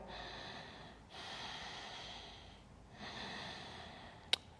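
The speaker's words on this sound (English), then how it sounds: "Take 2 more breaths here." Deep, slow breathing during a yoga class: two long, airy breaths taken close by, each lasting over a second, with a brief quiet pause between them and a sharp click near the end.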